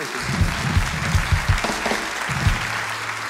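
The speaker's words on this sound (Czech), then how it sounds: "už vám tleská" A television studio audience at a comedy show applauds in a thick, continuous burst, with a voice murmuring low underneath.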